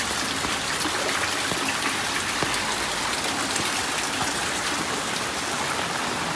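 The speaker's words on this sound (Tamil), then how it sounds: "இப்போ ரொம்ப மழை பெய்யுது, இதுக்கு மேலே நிற்க முடியாது." Heavy rain pours down steadily on a home garden in Chennai during Cyclone Fengal, a dense, unbroken hiss of drops hitting surfaces with no voices.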